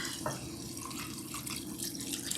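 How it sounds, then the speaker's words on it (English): Water pours steadily into a cooking pot for jambalaya, a continuous splashing gush, moderately close and fairly quiet, with no talking over it. "I'm about to add the water in here."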